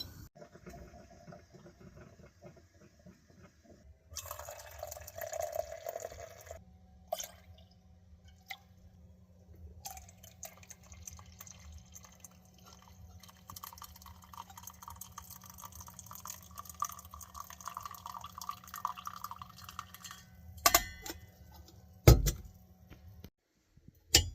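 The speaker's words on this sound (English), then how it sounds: "A little coffee filter hack's working out pretty good in the percolator." Coffee pours from a camp percolator fitted with a paper filter, with intermittent dripping and trickling, soft clinks of metal and cups, and a steady low hum underneath, all fairly close and quiet with no talking.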